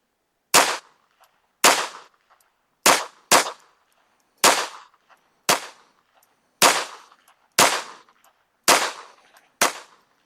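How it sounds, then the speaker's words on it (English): A Taurus TX22 pistol firing a ten-shot group with Herters ammunition, ten sharp, close cracks at a steady, unhurried pace, each with a short decaying ring and near silence between shots. "Let's shoot a 10-shot group with the herders."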